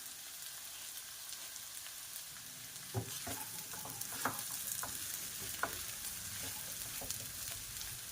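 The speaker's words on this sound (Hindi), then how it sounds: "तो घी जैसे ही पिघलता है मैं क्या करूंगी, ये मेरे सोक्ड वाले साबूदाने इसमें डाल दूंगी।" Soaked sabudana (tapioca pearls) frying in melted ghee, giving a steady close sizzle with scattered sharp crackles and light stirring clicks; no one speaks.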